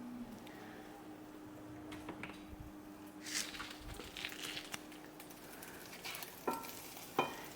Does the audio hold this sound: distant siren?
no